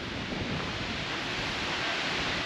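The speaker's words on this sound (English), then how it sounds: "it's definitely a windy day" Steady broadband wind rushes and buffets the microphone throughout on a blustery day outdoors near a historic landmark, a constant roar with no voices.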